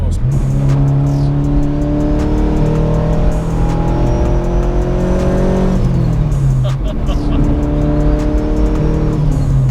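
A turbocharged 426 bhp K20 engine in an MB6 Honda Civic drones steadily at part throttle, pitch climbing through gears with a brief drop near the middle as it shifts, loud and close.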